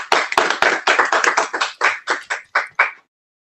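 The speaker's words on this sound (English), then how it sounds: "let's give our valedictorians a thunderous round of applause" A few people clap over unmuted microphones at an online graduation ceremony honoring valedictorians, sharp separate claps in an uneven burst lasting about three seconds and then stopping.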